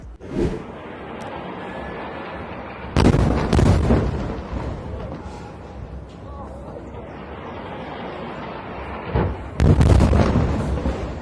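Israeli bombardment and rockets hitting Gaza, heavy explosions booming out with deep rumbling, two especially loud blasts spaced several seconds apart over a continuous din of distant impacts.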